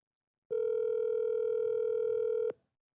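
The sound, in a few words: telephone ringback tone, call not answered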